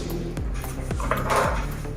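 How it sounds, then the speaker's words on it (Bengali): A knife chops carrot, onion and tomato on a board, giving a few scattered, sharp taps over a low background hum, with no one speaking. "এবার কেটে নিচ্ছি সব"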